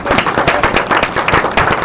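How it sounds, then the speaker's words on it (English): Audience at a nonprofit fundraising board panel applauding a panelist, with brisk, crisp clapping from a small crowd that is close and loud and keeps a steady, dense patter throughout the short burst. "Give a big round of applause for our good friend Tim"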